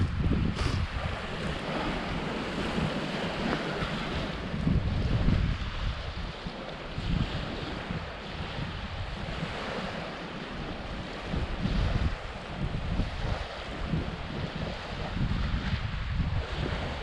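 Wind and waves roll on a lake beach, a continuous broadband rush of gusts buffeting the microphone over a low, steady surf wash, with no talk.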